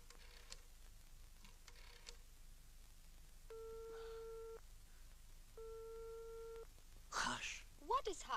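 Telephone call tones while ringing someone, with two steady buzzing tone bursts of about a second each, separated by a pause, faint under background noise, followed by speech at the end.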